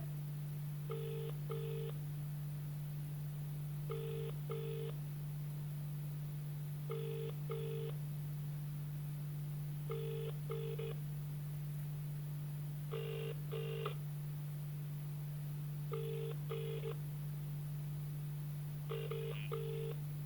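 A steady low hum runs underneath while a short double-beep telephone tone repeats every three seconds, sounding odd and electronic.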